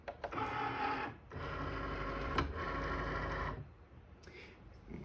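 A Cricut cutting machine drawing in its mat, a close mechanical whirring motor with rollers running in two long stretches and a brief click between them, then quieter.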